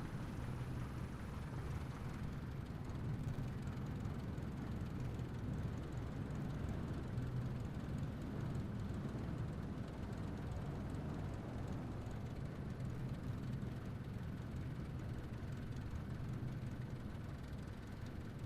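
Aircraft engine idling steadily while the plane taxis in Microsoft Flight Simulator, a constant low drone held at an even, fairly quiet level throughout with no talk.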